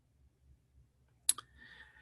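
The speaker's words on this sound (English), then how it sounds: "I'm typing in the address right now" Computer keyboard being typed on while entering a web address, a couple of sharp close clicks in quick succession after a quiet stretch, faint and brief.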